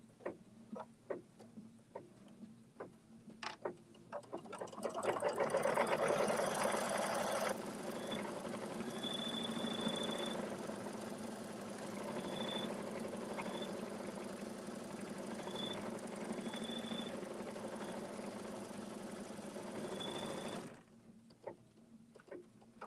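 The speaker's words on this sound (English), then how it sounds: "So that is the final stitch on the machine." A sewing machine running a final bottom stitch line, a steady close whirring hum that holds for about fifteen seconds with faint ticking on top, then stops.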